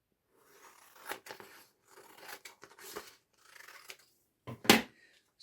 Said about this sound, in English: and then cut the paper.